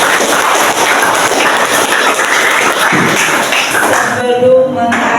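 A classroom group applauds, a dense, steady wash of hand claps filling the whole stretch with brief tapping at the end.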